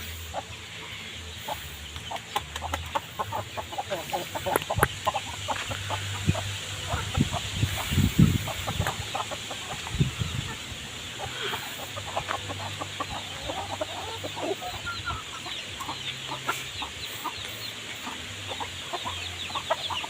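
Thai game chickens clucking near and far in a busy yard, with intermittent calls over constant background noise and a cluster of louder clucks midway.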